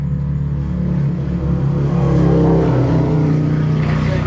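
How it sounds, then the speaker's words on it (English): A loud Harley-Davidson Evo motorcycle engine drones steadily throughout, deep and throaty with a slight swell midway, close by and uninterrupted. "Comes that ridiculously loud motorcycle. Listen to this thing."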